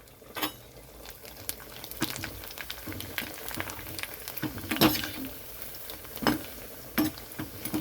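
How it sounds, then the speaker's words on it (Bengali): Papad frying in hot white oil in a frying pan, giving a steady close sizzle dotted with sharp crackling pops and occasional louder bursts, with no talking. "তো আমি এখন পাঁপড়গুলো ভেজে নিচ্ছি।"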